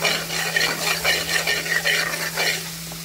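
A spoon stirs ginger garlic paste with chili and turmeric powder in a hot pan, a continuous close scraping and sizzling texture with rhythmic strokes and a steady low hum beneath.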